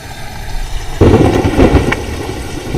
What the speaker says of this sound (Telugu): వర్షం పడుతుందిరా